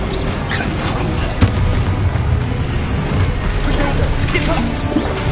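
A Confringo fire spell detonates in a wizard video game amid dense, continuous booms and crashing blasts, loud and close throughout with one sharper impact near the start.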